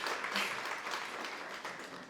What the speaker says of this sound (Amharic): ለአሚጎስ አጨብጭቡልኝ።